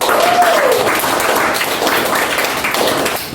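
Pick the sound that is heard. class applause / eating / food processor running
class applause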